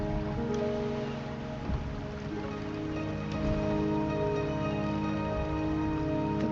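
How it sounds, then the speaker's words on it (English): Steady rain falls in the video game Wuthering Waves, a continuous even wash of drops with no voices over it. "The rain is subsiding, and the sky will soon clear."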